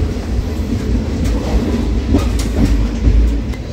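Steady rumbling and rhythmic wheel clatter fill the cabin of a moving, nearly empty passenger train, heard from inside the carriage with no voices.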